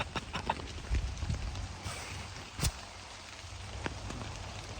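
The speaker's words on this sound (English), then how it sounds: "Normally you'd want the rain to go away," Rain patters on a tarp outdoors as a soft, continuous hiss, with scattered louder drops and taps landing at irregular moments.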